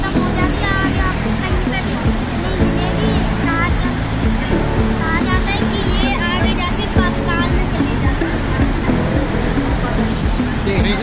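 The Saraswati river rushes past at Mana village, its water making a loud, continuous roar throughout, with people's voices audible over the flow.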